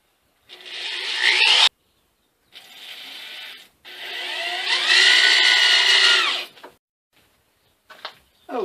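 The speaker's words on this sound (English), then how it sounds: "Then we just drill it out and put in a couple screws." A power drill whines through wood in two bursts, boring a 3/8 inch hole for a sandbox toy, the second burst longer and rising in pitch, with brief quiet gaps between.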